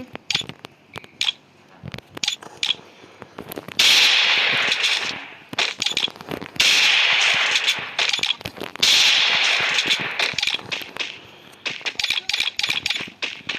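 Rapid gunfire from an in-game weapon in a ranked shooter match, crackling in dense bursts with brief pauses between volleys, loud and close, with no voices.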